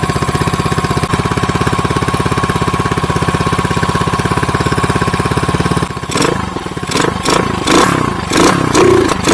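An RPS Condor 150cc scooter engine with a Nibbi 26mm carburetor idles a little high when warm, a steady close putter that turns rougher and uneven in the last few seconds.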